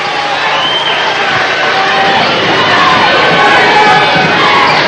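A revved-up crowd cheers and shouts loudly and continuously at a high school basketball game as the tip-off begins, a dense roar of voices filling the gym.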